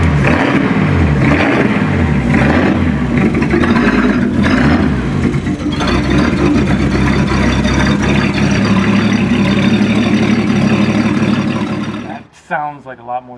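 A powerful turbocharged straight-six engine in a Datsun 240Z runs loudly and roughly, revving and burbling unevenly before cutting off abruptly near the end.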